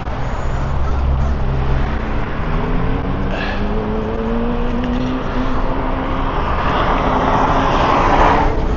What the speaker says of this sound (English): Look at those cars, guys. Everywhere going to Mexico.